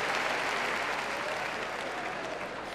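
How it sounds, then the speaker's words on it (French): A theatre audience at a televised Ivorian comedy show applauds comedian Abbas, with continuous, even clapping and a faint crowd murmur throughout. "Applaudissements pour lui encore, mesdames et messieurs."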